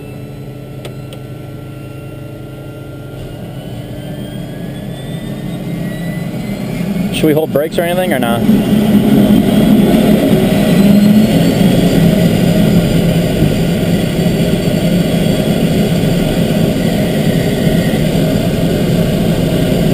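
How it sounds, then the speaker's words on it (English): The right turboprop engine of a Beechcraft King Air U3A winds up in the cockpit, a whine and roar swelling to a loud steady drone, with a brief crackle partway and voices talking under it. "Now we'll try the right engine."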